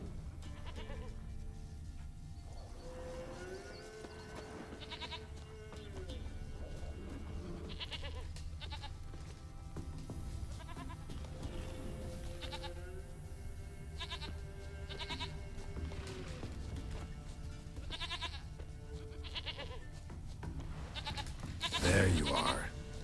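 A stubborn goat in the game Witcher 3: Wild Hunt bleats several times in drawn-out wavering calls over a low ambient game backdrop, moderately loud, ending in a short burst of louder noise.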